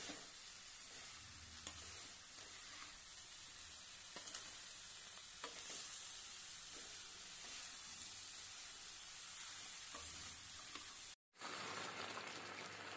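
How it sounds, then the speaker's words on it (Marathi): Amla (Indian gooseberries) cooking in bubbling sugar syrup, stirred up and down in the pan: a soft, steady sizzling hiss with a few faint spoon scrapes and one brief dropout near the end, no voices. "आता छानपैकी याला खाली वर करत राहायचं आणि आता हे आवळा आणि साखरेचा पाक तयार होतो"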